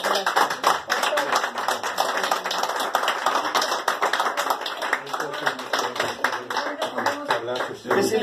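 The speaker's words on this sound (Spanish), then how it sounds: "Merece un aplauso, pero muy fuertote." Audience claps loudly and energetically, sharp individual hand claps standing out in a busy rhythmic burst that carries on for about eight seconds, with some voices mixed in.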